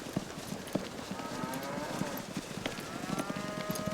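Cattle being herded at dark on a ranch drive: a low, busy bed of animal movement and hoof clatter, with a few soft lowing moos drifting in from a distance.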